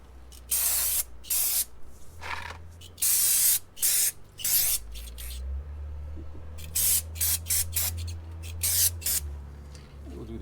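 Repeated short bursts of brake cleaner sprayed onto the front brakes of a Nissan Armada, loud hissing blasts in irregular clusters with pauses between, over a low background hum.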